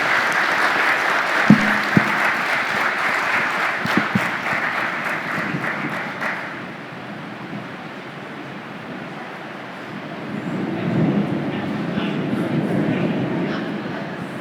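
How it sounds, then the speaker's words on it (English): An audience applauds a conference panel at a civic discourse event, with dense clapping for about six seconds that then thins and fades before a second, quieter swell of applause. "Perhaps one more round of applause both for this panel, but for all of our panelists"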